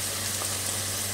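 Garlic and ginger fry in a pan over a medium flame for a staff curry, producing a constant, even sizzle with a low hum beneath it and no talk.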